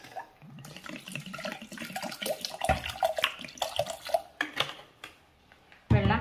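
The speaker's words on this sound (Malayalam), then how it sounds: "അതുകൊണ്ട് അല്പം മീതെ വെള്ളം ഒഴിക്കണം" Water is poured into a pot of dal with garlic, turmeric, chili powder, salt and curry leaves for a Kerala parippu curry. A close splashing pour lasts about four seconds, then a brief clatter follows.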